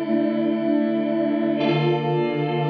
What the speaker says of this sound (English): modulate the taps, either in level to add a subtle sense of movement, or in time to add a more obvious chorusing or flanging effects